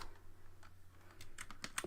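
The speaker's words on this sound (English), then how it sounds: "I've just plugged in my old gaming keyboard, which sounds a lot more" An old gaming computer keyboard is typed on in short, uneven bursts of sharp key clicks, growing denser and louder toward the end, with no voices.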